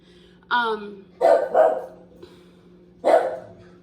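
A pet dog barks close by in a home, a few sharp separate barks spaced over a few seconds, loud against a quiet background.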